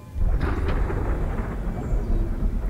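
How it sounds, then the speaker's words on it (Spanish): Deep rolling thunder rumble in the video game Soma, a loud low swell that rises quickly and holds for a couple of seconds, with no talk. "Suena como truenos, ¿lo escucháis?"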